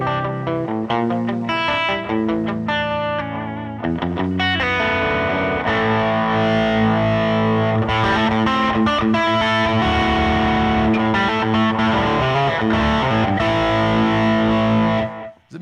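Electric guitar played through a Greg amplifier with a few stomp boxes, distorted and effects-laden, carrying a continuous busy riff with sustained chords and rapid runs, loud and steady throughout.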